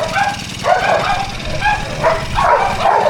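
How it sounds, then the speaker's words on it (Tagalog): A dog barks in a few short, yapping bursts over a steady low engine hum, fairly close and loud. "Ang ingay ng aso."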